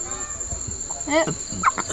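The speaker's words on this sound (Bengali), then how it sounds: "মুরগি ওপরে ঝুলিয়ে রেখেছো হ্যাঁ বড় সাইজে পোলট্রি আছে" A live poultry chicken hung up at a market clucks a few short, close notes over a steady high whine and background chatter.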